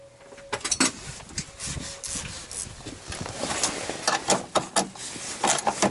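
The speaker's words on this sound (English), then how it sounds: "now I'm just going to grab my 12mm spanner and nip it up" A 12mm spanner nips up a nut on a Ford Ranger/B2500 radiator bracket, producing irregular close scraping and clicking ratchet-like strokes with brief metallic rubs and no speech.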